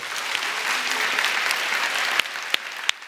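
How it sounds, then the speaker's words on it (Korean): Dense applause from a church congregation, steady and fairly loud, with a few sharper claps near the end. "우리 이분들에게 뜨거운 박수."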